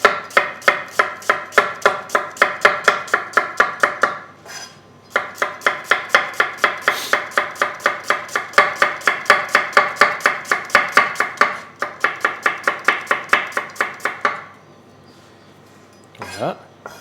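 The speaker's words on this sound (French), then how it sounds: "on va prendre notre oignon et on va l'émincer" A knife chops an onion very finely on a cutting board in a restaurant kitchen, rapid steady taps in long close bursts with short pauses between runs.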